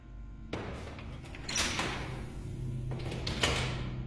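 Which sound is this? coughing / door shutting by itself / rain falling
door shutting by itself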